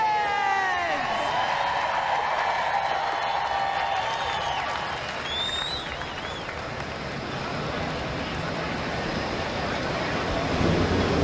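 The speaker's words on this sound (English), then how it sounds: "40 engines come to life here in Fontana, California" A field of 40 stock car engines starting and roaring together in NASCAR Racing 2003 at Fontana, California, a steady loud rumbling wash that holds for the whole stretch while a voice speaks over it.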